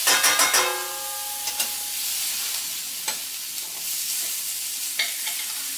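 Salmon fillet sears in a hot pan with a steady, dense sizzle and crackle, a few clinks and scrapes at the start and occasional soft taps over the continuous frying hiss; no one speaks.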